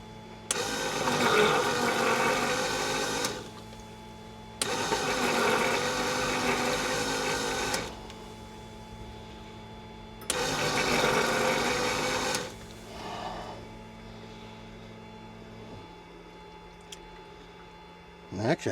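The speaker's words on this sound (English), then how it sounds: "I'm gonna flush it a couple times," A CJ3+ jet's lavatory toilet is flushed repeatedly, three loud, steady whooshing bursts of roughly three seconds each with short pauses between, over a constant electrical hum, followed by a fainter gurgle.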